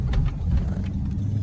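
A Dodge SRT 392 engine cruising at low speed, a low steady rumble and hum filling the short moment, fairly close and without talk.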